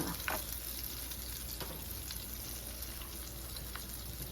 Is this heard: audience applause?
no